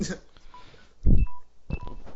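Electronic phone beeps, a low-battery warning, chirp faintly at intervals amid room talk and a few loud thumps.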